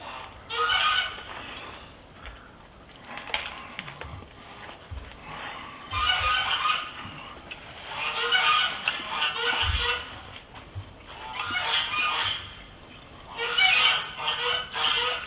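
Goose honking loudly outdoors in repeated bursts of harsh calls separated by short pauses, close to the listener.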